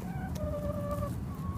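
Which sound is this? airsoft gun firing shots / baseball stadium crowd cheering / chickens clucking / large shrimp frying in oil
chickens clucking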